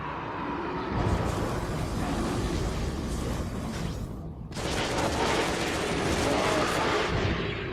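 Rapid, sustained gunfire from a flashlight-mounted gun in the video game Deadfall Adventures, dense and loud, with a brief break before the shooting resumes.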